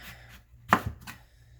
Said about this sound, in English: cut around the core and cut slices